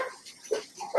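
A dog barks and yips a few times in quick succession, fairly close and fairly loud, over a quiet indoor background.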